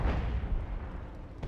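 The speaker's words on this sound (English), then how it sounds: "Artillery barrage running on in" An artillery barrage in Company of Heroes 1: a deep, heavy rumble of explosions that starts loud, then tails off with a faint sharper pop near the end, and no talking.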